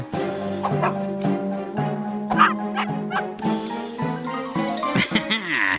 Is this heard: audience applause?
no